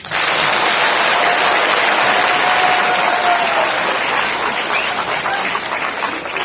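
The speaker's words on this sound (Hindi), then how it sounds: "तो दिल्ली आने के खुशी में ताली बजाइए।" Loud, dense applause from a large audience of school students at an event in Delhi, sustained clapping that fades slightly toward the end.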